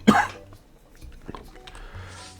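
A single sharp cough bursts out close to the microphone at the start, followed by quiet, faint rustling.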